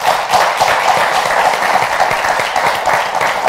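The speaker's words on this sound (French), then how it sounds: "On va l'applaudir très fort." Loud, dense applause from a studio audience at a French-language talk show, steady and close throughout with no voices over it.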